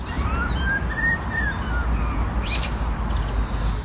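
A bird mimicking a police siren repeatedly sounds rising and falling siren-like whistles over steady outdoor background noise, with brief chirps scattered between.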